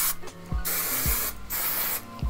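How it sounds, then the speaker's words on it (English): Hairspray from an aerosol can sprayed onto hair while styling waves with a curling iron: several loud, close hissing bursts, each about half a second, with short gaps between. "And then grab some hairspray."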